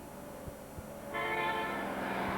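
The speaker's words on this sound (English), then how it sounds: "Bartok traveled to work by subway." A subway train rumbles along with a steady low drone and periodic rail clicks, then a sustained bright tonal whine or horn joins halfway through.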